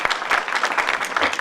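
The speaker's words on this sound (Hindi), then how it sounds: "आपके लिए तालियां लगा" An audience at an Urdu mushaira poetry gathering applauds, a dense, continuous patter of many hands clapping close by for the whole short stretch.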